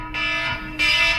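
An alarm sounding early in the morning in Manila, a steady electronic ringing tone that grows louder partway through, continuous and alone without talk.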